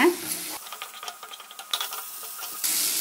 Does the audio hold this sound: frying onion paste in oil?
yes